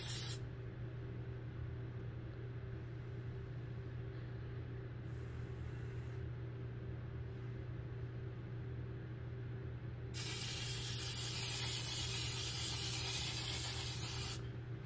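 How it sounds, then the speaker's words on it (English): A long, steady aerosol fixative hiss over a charcoal drawing runs for several seconds near the end, preceded by quieter background hum with a couple of faint short sprays. "you just want to give it a little spray over top"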